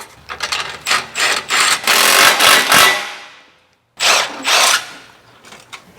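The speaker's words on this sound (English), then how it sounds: "now we just need to tighten these clamps up in the back here." Repeated bursts of ratcheting from a hand tool tighten the exhaust clamps on the downpipes of a biturbo Mercedes-AMG GT S, close and loud, in quick strokes with a short pause midway.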